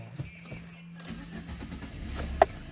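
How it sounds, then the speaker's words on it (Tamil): Maruti Ritz hatchback engine cranks and catches in a brief start, settling into a low steady idle with a sharp click near the end, heard close up without talk. "ஸோ வண்டியை நான் ஸ்டார்ட் பண்ணுறேன்."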